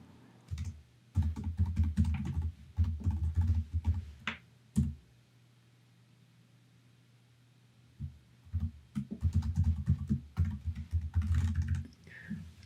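Bursts of rapid keystrokes on a computer keyboard while a site name is entered, two runs of typing separated by a quiet pause with a low steady hum, close and fairly loud.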